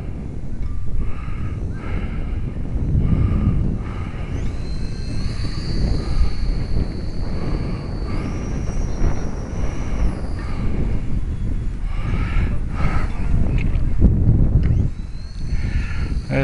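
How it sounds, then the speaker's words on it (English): Strong wind buffets the microphone at a Texas lakeside, a loud, continuous rumble with gusts, while the high whine of a small electric RC plane's motor drifts in and out overhead. "Oh man, that wind is like way more than I like."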